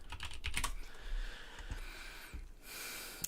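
Fingers type on a computer keyboard while coding, a rapid, uneven run of close clicks and clacks with brief pauses, plus a soft breath or snort, and no speech.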